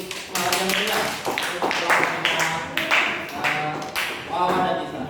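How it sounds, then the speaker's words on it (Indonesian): A group clapping hands together in an indoor gathering, sparse and uneven bursts of claps recurring over several seconds while voices talk through it. "Kita tepuk tangan dulu, please"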